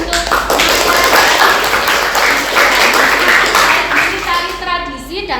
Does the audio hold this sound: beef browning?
no